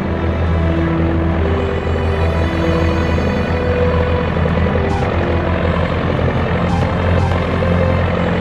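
A military aircraft, apparently a propeller plane, lands and taxis, its steady engine drone and rumble filling the scene loud and close with no one speaking.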